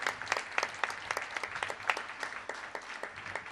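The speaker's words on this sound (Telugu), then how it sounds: "కొట్టవయ చప్పట్లు గట్టిగా" A congregation claps loudly at a church service, a dense sustained round of hand claps with sharp individual slaps rising above the wash, steady and close throughout.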